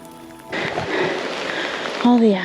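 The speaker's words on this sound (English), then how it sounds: "So beautiful in the rain." Steady broadband hiss of rain falling outdoors among aspens on the John Muir Trail, fairly close, with a voice-like tonal sound rising near the end.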